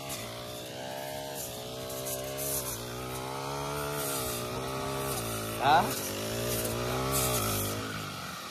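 A brush cutter runs steadily while cutting grass in a farm field, a close, continuous buzzing engine drone that rises and falls slightly in pitch, with a brief sharp knock midway and a voice talking over it.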